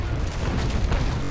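Deep, continuous rumbling booms of broadside cannon fire from an enemy brig in the naval game Naval Action, dense and loud with heavy low end throughout.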